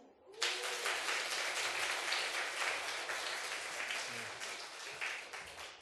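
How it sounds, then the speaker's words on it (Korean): A congregation at Jecheon Seomun Church claps during a Sunday sermon. Dense, sustained applause starts abruptly and carries on at a steady level for several seconds, with faint murmuring voices underneath. "박수."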